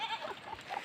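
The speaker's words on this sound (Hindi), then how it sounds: "और सुबह बकरियों के साथ" Goats on a hillside village farm bleat in a few short, wavering calls, soft and somewhat distant over light background noise.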